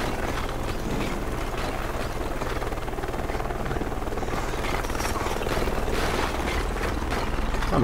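Helicopter rotor chopping steadily and loudly throughout, with a dense mechanical roar, from the video game Deadlight.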